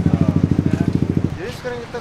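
A pink motorcycle pulls up close by, its engine thumping in a steady rapid pulse for over a second before easing off, followed by brief voices.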